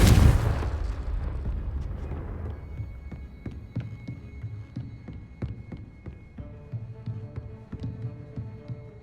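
The Confringo explosive spell in Hogwarts Legacy on Xbox Series X goes off as a loud, close blast with a deep boom, then a decaying rumble with scattered sharp ticks and faint tones trailing behind.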